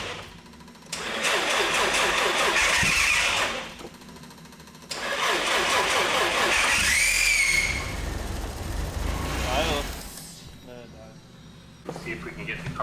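A Nissan 180SX engine cranks with a whirring starter, catches briefly, drops off, then cranks again with a rising whine as voices talk nearby.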